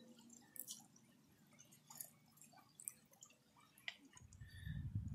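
Water drips and splashes softly as a jasper rock is rinsed in a southern Ohio creek, with scattered faint trickles and small splashes building toward a louder swish at the end.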